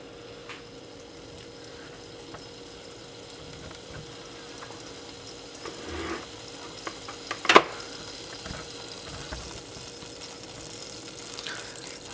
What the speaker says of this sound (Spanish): haciendo ruidito el aceite, de que ya se está calentando